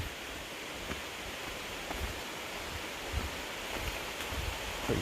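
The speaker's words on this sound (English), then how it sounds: "Pretty epic waterfall situation happening right here." Broad, steady roar of a waterfall on the Appalachian Trail, a constant rushing wash of water heard close and loud with no voices.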